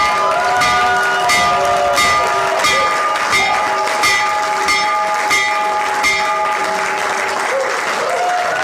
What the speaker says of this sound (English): So ring the bell, Mr. President.